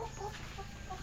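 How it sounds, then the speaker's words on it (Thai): Laying hens clucking steadily while eating feed on a farm on a cool morning, a dense continuous flock murmur with overlapping soft clucks, moderately close. "ตอนนี้ก็ไก่กินข้าวอย่างสนุกสนานอย่างมีความสุขเลยเนาะ"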